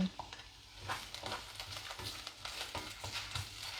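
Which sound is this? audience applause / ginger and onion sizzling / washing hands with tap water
ginger and onion sizzling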